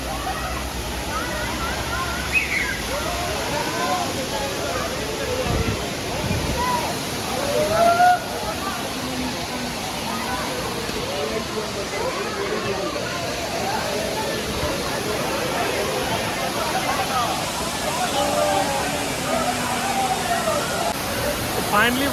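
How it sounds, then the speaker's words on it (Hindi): A Mussoorie waterfall pours in a steady, full rushing roar while people bathe in its cold water, with splashing and voices of people talking mixed into the constant noise. "ये फॉल है भाई, वाटरफॉल"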